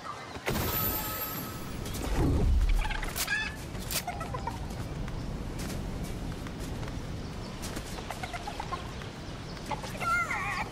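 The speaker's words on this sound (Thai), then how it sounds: "มีไก่หนึ่งตัวกระตากกระตากอยู่ตรงนี้ล่ะ" A chicken in Fortnite clucks in short bursts over a busy background of game effects and rumble, moderately loud and nearby.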